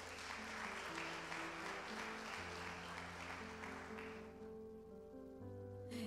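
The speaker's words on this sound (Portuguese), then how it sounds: "Se você pode, já aplauda ao Senhor." Church congregation applauding during a worship service, a dense steady wash of clapping sustained for several seconds with organ or keyboard chords held underneath, thinning slightly toward the end.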